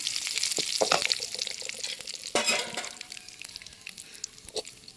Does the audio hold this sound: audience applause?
no